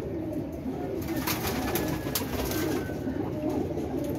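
Low, throaty cooing from domestic flying pigeons rolls on continuously, several birds overlapping at close range, with brief rustles and no speech.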